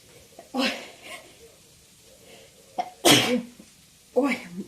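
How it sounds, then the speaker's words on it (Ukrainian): A single loud, sharp sneeze bursts out in a kitchen where grape sauce is being cooked with garlic and spices, set between a few quieter breathy vocal sounds. "Коли я чую оці такі аромати е, різних приправів, постійно я чомусь чхаю."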